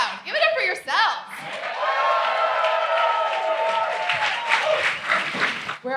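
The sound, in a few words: audience applauding and cheering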